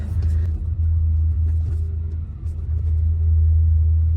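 A modified Cadillac Escalade with a 6.0 engine, previously flooded in a hurricane, rumbles along with a loud, deep, steady exhaust drone that dips briefly before swelling again.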